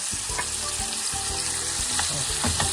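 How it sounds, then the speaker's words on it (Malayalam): Sweet and sour Singapore pork sizzles loudly in a hot pan as it is stirred, with a steady bright frying hiss and repeated low scraping thumps of the utensil, close up with no talking. "നമ്മൾ അടപ്പ് മാറ്റി ഇതെല്ലാം കൂടെ ഒന്ന് ഇളക്കി കൊടുക്കാം"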